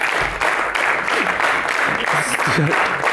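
Audience clapping for the cast at a comedy theatre show, a dense burst of applause with someone talking over it.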